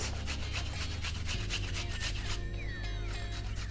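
Fresh unpeeled ginger rubbed roughly on a grater for wontons makes a loud, steady rasping scrape in quick repeated strokes over a low background hum.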